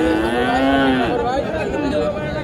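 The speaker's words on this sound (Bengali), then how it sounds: "দেখেন এখনো বাজারে কত গরু আছে, কত জাত মানের গরু আছে" A cow lets out a loud, close, drawn-out moo at a rural cattle market for Friesian heifers in Ghoraghat, Dinajpur, with murmuring people around.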